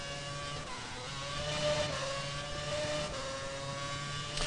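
A racing car engine in a Japan Grand Prix race video game holds high revs, a steady, buzzing whine that rises and falls slightly over several seconds, loud and continuous with no talking.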